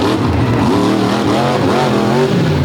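A monster truck engine roars and revs hard at a live show arena, loud and continuous with pitch swells rising and falling as the driver pushes the truck to its limit; crowd and announcer noise underneath.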